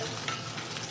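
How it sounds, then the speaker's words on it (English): Braised beef searing in a hot pan, a dense continuous close sizzle with a few light stirring scrapes, short and unbroken, no talking. "Now we're going to get just a little bit more of the sear on this side"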